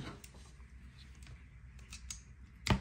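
Scissors snip through crochet yarn in one sharp, close cut near the end, after a quiet stretch of faint handling noise.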